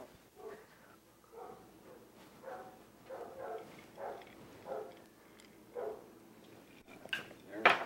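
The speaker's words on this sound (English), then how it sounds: "Never mind the dogs barking in the background." Dogs bark in the background of a home kitchen during a cooking session, in intermittent bursts under and between people talking, with the clink of dishes and utensils nearby.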